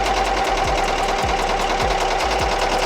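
An embroidery machine runs a placement stitch for appliqué, a fast steady mechanical whir with evenly spaced thumps roughly every half second, close and continuous, with no talking.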